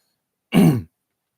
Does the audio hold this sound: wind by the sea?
no